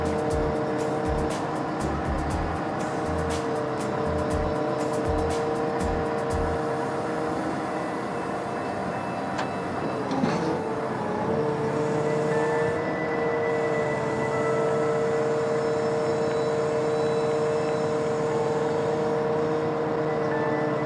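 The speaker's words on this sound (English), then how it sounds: "So in this case, we're going to boom out and then use the stick of the machine to pull away from the load." Diesel engine drone from a JLG telehandler booming out and backing away from a truss boom load on a work site, a steady loud hum with shifting tones and a brief mechanical rise midway.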